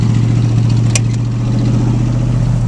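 A 1986 Ford F150 pickup idles after a cold start with a steady, close, low engine drone and one brief click partway through.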